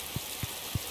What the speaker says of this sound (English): It sounds like it's raining in here.